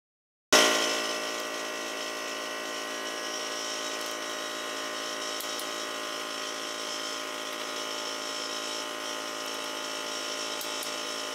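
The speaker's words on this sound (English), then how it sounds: "then run them down with the impact" An impact wrench runs wheel lug nuts down on a Jeep Grand Cherokee during a wheel bearing replacement, one long continuous whirring drive that starts abruptly and stays steady and fairly loud throughout.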